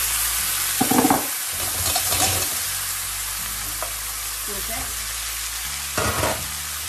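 Mushrooms going into a hot pan for a rice-noodle vegetable stir-fry, a steady loud sizzle broken by bursts of crackling and spatula scraping as they are stirred, with no talking.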